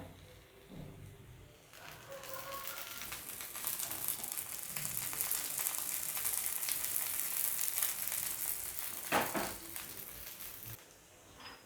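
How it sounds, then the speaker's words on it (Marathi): Spring onion and rice-flour ghavan roasting in a pan with a little oil, giving a soft, steady sizzle heard close up and fairly quiet throughout. "हे आपण भाजून घेणार आहोत अगदी थोडंसं तेल आपण साईडनं सोडूया"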